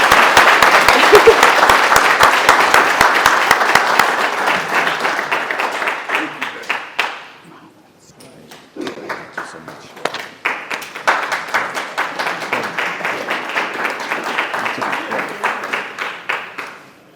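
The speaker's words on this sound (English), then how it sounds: "Give him a round of applause." Audience applause at a 2023 hall of fame ceremony, a loud dense round of clapping that fades to near quiet, then sparser individual claps pick up again and continue.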